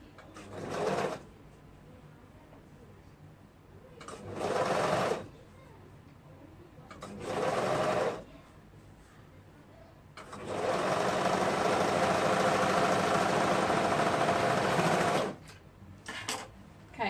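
A sewing machine stitches the shoulder seam of a refashioned sweater, running in four bursts: three short runs and one long steady stretch, close and fairly loud, with quiet pauses between.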